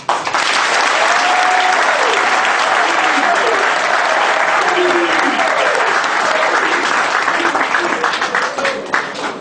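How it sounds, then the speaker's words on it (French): Loud, dense applause from a crowd at a Congolese opposition political rally in Bouenza, sustained for nearly ten seconds with shouts and voices mixed into the clapping. "que je vous demande d'applaudir très fort"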